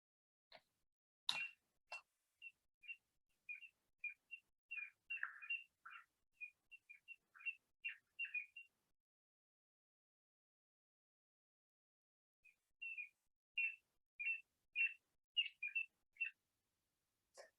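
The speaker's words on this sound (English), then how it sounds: "you can hear the plovers in the background, the parents trying to get the owl away" Plover parents call repeatedly to drive an owl away from their chicks at the nest: a run of short, high chirping notes, a pause of several seconds, then another burst of calls, fairly distant against a quiet background.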